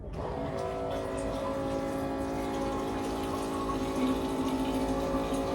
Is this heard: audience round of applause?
no